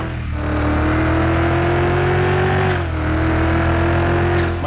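A Citroen C1 fitted with a 3000 hp V8 biturbo engine drives with a loud, close, sustained engine drone. Its pitch climbs, dips briefly as it shifts, then climbs again, with no talking.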